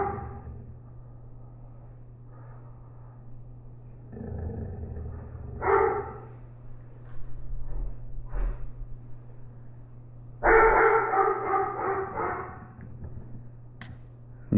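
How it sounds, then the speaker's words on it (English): A dog growls low and steadily, building in bursts, with a sharper louder rumble toward the end; no talking. "You hear the growling?"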